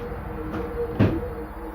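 A stairwell exit door swings open with a soft creak, then closes with a dull thump against a low steady hum, near and moderately loud.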